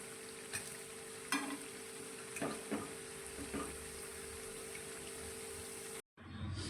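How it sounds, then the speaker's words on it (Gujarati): Green fenugreek snack fritters frying in hot oil, a steady soft sizzle with a few louder bubbling pops and stirring clatters, close by, cutting off briefly near the end before resuming. "આ જ રીતે આપણે બીજો બનાવેલો બધો જ નાસ્તો આપણે તળી લઈશું"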